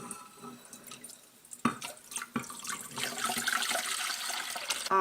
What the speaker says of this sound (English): Then you need to cover it with a quart of water